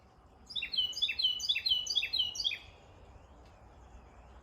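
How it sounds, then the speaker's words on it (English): A bird sings a quick series of bright, repeated chirping phrases for about two seconds, fairly close, over a soft background hush. "I hear a bird."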